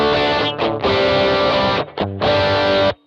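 An electric guitar runs through an MXR Rockman X100 pedal on its edge distortion setting, straight into the recording with no cabinet, playing loud saturated sustained chords in three bursts separated by brief choppy gaps, ending in near silence.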